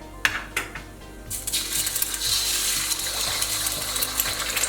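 An egg drops into hot oil in a wok: a few light clinks, then a sudden bright sizzle that swells and keeps crackling steadily up close, with no talking.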